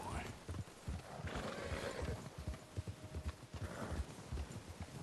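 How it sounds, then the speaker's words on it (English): Hooves clop in a steady, rapid rhythm close by, and a spooked horse whinnies partway through over a soft background in the video game Red Dead Redemption 2. "my horse got spooked"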